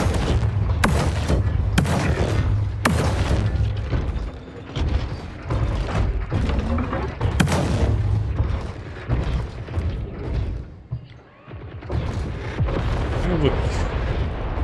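A mech in War Robots: Frontiers, the Scorpion, fires its weapon in a dense run of loud, booming shots with rumbling blasts, in rapid bursts and short pauses.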